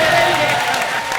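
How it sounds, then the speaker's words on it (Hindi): Studio audience at a Hindi comedy show applauding loudly, a dense steady wash of clapping with some crowd noise, close and sustained without a break. "जोरदार तालियां हो जाए मेरे लिए।"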